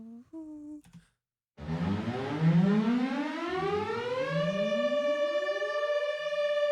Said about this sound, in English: it just sounds like a siren because they're very detuned sounding somehow